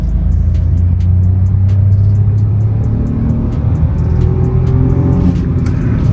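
A 2024 Maruti Suzuki Swift facelift's 3-cylinder engine pulls from first gear on a highway with the AC on, a loud, close, continuous drone that climbs in pitch through the gears.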